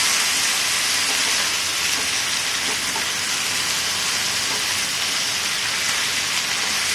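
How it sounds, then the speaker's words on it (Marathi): Bilimbi vegetable frying in a pan on low gas heat, a steady close hiss and sizzle that continues without pause, with no talking. "या प्रकारे एकसारखं याला हलवत राहायचं म्हणजे सगळीकडून छान फ्राय होतात ते"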